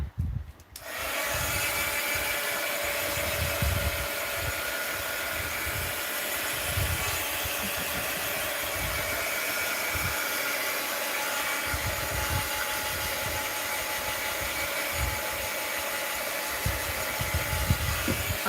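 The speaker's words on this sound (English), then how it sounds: "I'll just hit it with the heat gun again" A heat gun blows steadily on wet paint over a painted desktop paper craft project, a constant close airy whoosh with some uneven rustling and handling noises throughout.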